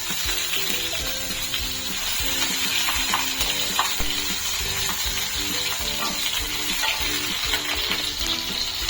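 Cumin seeds, whole dried red chilies and green chilies frying in hot oil for a tempering, making a dense, continuous close sizzle that stays steady over a faint mechanical drone. No voices.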